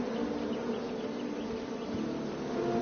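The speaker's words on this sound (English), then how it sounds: "I ruined the bees' day and that lovely meal." Bees buzzing in a PS4 video game, a steady droning hum that holds at an even level for under three seconds, with no voices over it.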